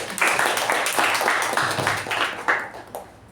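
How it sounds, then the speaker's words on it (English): A small audience at a Toastmasters club meeting claps for Toastmaster Balraj, a short round of distinct, close claps that thins out and fades by the end. "So a round of applause to Toastmaster Balraj"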